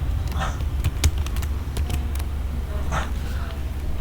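Keystrokes on a computer keyboard, a short burst of clicks with a few sharper taps over a low steady hum, close and fairly loud.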